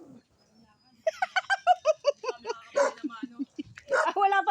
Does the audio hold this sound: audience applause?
no